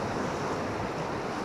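The incoming tide washes in at Saltom Bay on the Lake District coast, a steady hissing rush of surf close at hand with wind noise over it.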